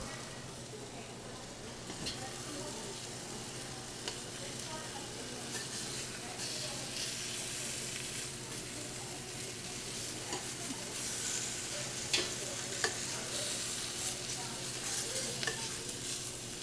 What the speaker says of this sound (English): I want to make sure that I'm searing all of my sides